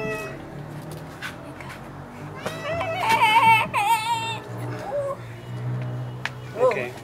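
Cats meow several times in a home with cats and dogs, drawn-out cries rising in the middle, close and clear while people speak softly in between.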